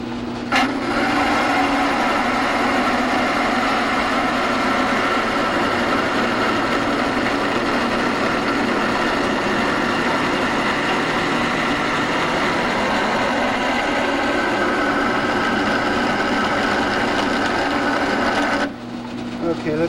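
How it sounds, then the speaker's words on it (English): Lathe drilling out a lower collar for a Harley-Davidson valve spring setup, a continuous loud grinding, rasping machining noise with motor hum that runs steadily for about eighteen seconds before stopping. "We're going to drill it out a little bit"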